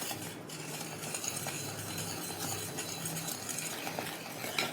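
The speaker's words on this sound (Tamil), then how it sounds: "இப்போ பார்த்தீங்கன்னா நான் கைப்படாமல் கிண்டிக்கிட்டே இருக்கிறேன் நான் ஸ்டாப்பாக" A spoon keeps stirring a thick butterfly pea wheat halwa in a pan, making quiet, continuous scraping and soft clinks against the metal.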